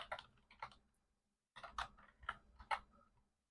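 Typing on a computer keyboard, a quick close cluster of soft key clicks, a brief pause, then another short burst of taps, faint and dry.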